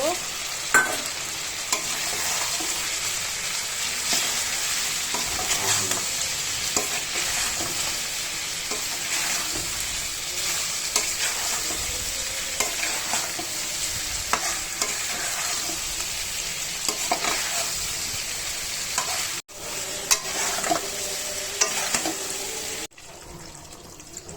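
Potatoes stirred into braised beef curry in a pan: steady frying sizzle throughout with frequent scraping and stirring clatter, loud and close, no talk.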